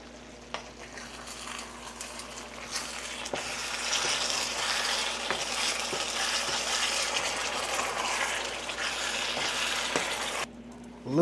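Gravy thickens in a pan, giving a steady, moderately loud bubbling sizzle with faint stirring scrapes throughout, no voices.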